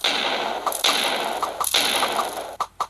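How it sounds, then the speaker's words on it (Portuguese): Explosive ball arrows from a Minecraft bows mod blow up in a few sharp, loud bursts, each followed by a noisy, crackling decay. "A explosão dele é grande, hein, mano."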